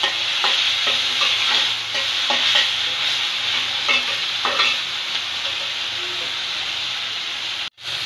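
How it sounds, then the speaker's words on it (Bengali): Ginger frying in a pan for a fish dish, a steady close sizzle with repeated scraping stirs throughout and no talk. "ভাজাটা খুব সুন্দর করে ভাজতে হবে।"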